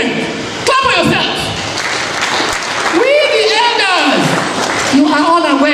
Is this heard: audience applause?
yes